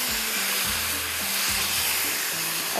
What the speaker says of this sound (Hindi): सब्जियाँ, सॉसेस, अब इसको करते हैं मिक्स